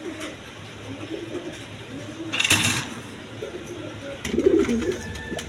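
Giraffe-neck pigeons at a bird market coo in low, throaty bursts, close by, with a brief rustle or flutter in the middle and faint background noise.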